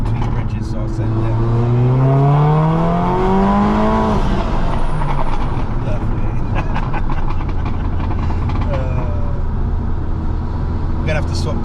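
A Mercedes A45 AMG with a decat downpipe and no cat-back revs loudly, its pitch climbing sharply before settling into a steady drone, with crackles and pops scattered through the rest of the passage.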